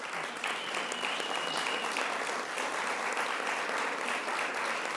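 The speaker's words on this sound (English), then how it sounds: "So please, a round of applause after I have welcomed them" An assembly hall fills with dense, steady applause for the honorary presidents at an annual general assembly, continuous clapping from a large crowd with no break.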